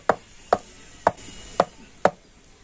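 A steaming container holding bhapa pitha batter is tapped to settle it: five sharp, evenly spaced knocks about half a second apart, close and clear over a quiet background.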